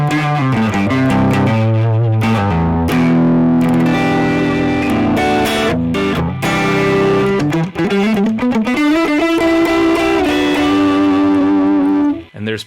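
An electric guitar through a distortion pedal plays sustained, gritty chords and bends, loud and continuous with a thick, saturated tone.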